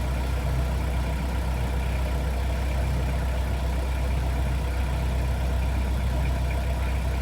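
A boat engine on the Norfolk Broads holds steady at 1200 RPM, cruising at four miles an hour. Continuous, fairly loud droning hum with a low throb, unbroken and without speech.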